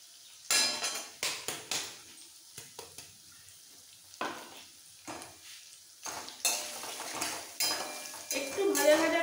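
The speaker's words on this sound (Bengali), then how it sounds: "এবার তেলের মধ্যে মিক্স করে ফেলবো। আর এই সময় দিয়ে দেবো মিক্সিতে গ্রাইন্ড করা মশলাটা।" Spoon stirring and scraping ground spice paste, blended in a mixer, into hot oil in a pan for a dosa stuffing, with irregular clinks and scrapes of utensil on pot and faint sizzling between strokes.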